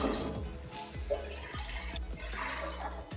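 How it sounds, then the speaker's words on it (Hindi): Three cups of water pouring into a pan for Kashmiri pink tea: a soft, continuous splashing and trickling with drip-like ticks, close by but fairly quiet, with no talk. "सबसे पहले हम एक पैन लेंगे और पैन में 3 कप पानी के शामिल करेंगे।"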